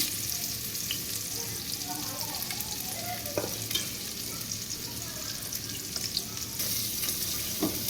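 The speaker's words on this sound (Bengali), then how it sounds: "পেঁয়াজটা ভাজা করে হবে" Onions sizzle steadily in a hot pan for a chicken dish, a continuous crackling fry with occasional stirring scrapes.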